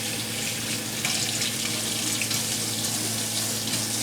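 Steady running tap water while a piece of jewelry, such as a ring, is rinsed clean under the faucet, a continuous broadband splashing hiss, fairly close and with no speech.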